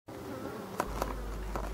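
Honeybees buzz around a beehive, a soft steady drone close by with a few louder passes as single bees fly near.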